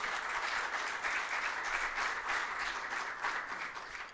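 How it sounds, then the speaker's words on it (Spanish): A church congregation applauding during a worship service, a full, steady roar of clapping from many people that holds throughout and eases slightly at the end. "¿Cuántos le dan un aplauso a la gloria del Señor?"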